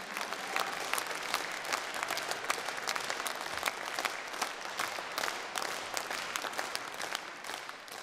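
A concert audience at a folk music show with a traditional orchestra applauds steadily, dense sustained clapping from many hands with distinct sharp claps standing out, filling the hall without a break.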